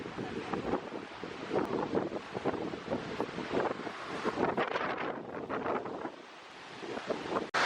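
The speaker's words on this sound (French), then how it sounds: "Checkez les vagues, la gang! C'est tout inondé," Waves break and surge along a flooded Ontario shore, a continuous roar of surf churned by heavy microphone wind buffeting, close and loud, with no voices.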